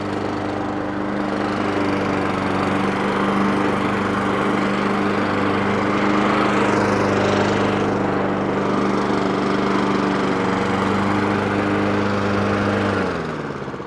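A Masport Rotarola lawn mower engine runs steadily and loudly at close range, a constant droning hum with no pauses or talk.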